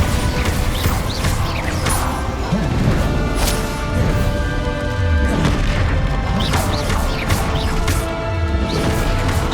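Repeated Bombarda spell blasts go off in the Hogwarts Legacy video game, loud crashing impacts and booms layered over a dense, continuous game soundtrack of music and effects throughout.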